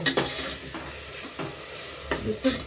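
Tomatoes fry in a pan for mutton biryani, with a soft, constant sizzle. A spoon scrapes and stirs at irregular intervals, making brief clinks over the frying, and no one speaks.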